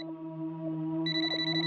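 A mobile phone rings with a steady electronic tone that gains a brighter layer partway through, brief and clear with no talk.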